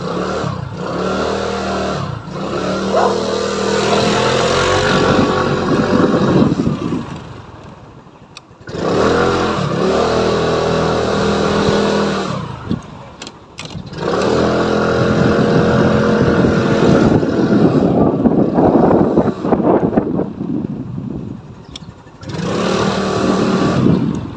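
A Motorstar Easyride 150P motorcycle with newly replaced rear brake pads is ridden on a test run, its engine revving up and easing off in several long passes, with wind buffeting the microphone between them.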